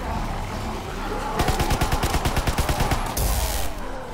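Bursts of rapid automatic fire from a grease gun submachine gun in Call of Duty WW2 Zombies, a loud, evenly spaced rattle of shots lasting under two seconds, followed by a brief harsher blast.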